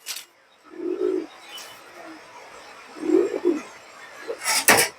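Racing pigeons for sale coo in low, throaty bursts, several separate phrases close by with brief pauses between, ending with a sharp rustle or flutter at the close.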